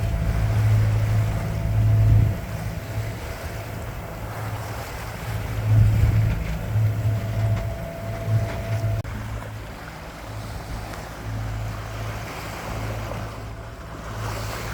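A low boat engine drones steadily beneath rushing water from the boat's wake and wind buffeting the microphone, with waves slapping and churning close by in the British Virgin Islands.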